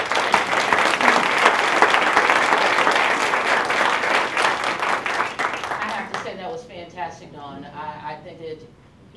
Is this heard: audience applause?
yes